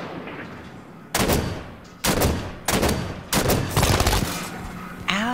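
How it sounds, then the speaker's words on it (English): Gunfire from enemies on a catwalk in the Halo 5: Guardians video game: several loud, close bursts of rapid automatic shots in separate volleys, with short pauses between them. "They're firing from the catwalk."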